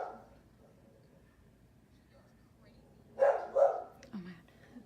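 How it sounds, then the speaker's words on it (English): A pet dog barks in the background of a home, a few sharp muffled barks clustered near the end over quiet room tone. "If y'all can hear my dog barking in the background,"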